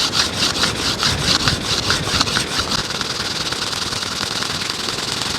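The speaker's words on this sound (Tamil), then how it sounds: "நான் இப்போ ரொம்பவே கஷ்டப்பட்டு தேய்ச்சிக்கிட்டு இருக்கேன்." Bamboo is rubbed hard against wood to make fire by friction in a forest, a fast, rhythmic, close-up scraping with even strokes that keeps going without a pause.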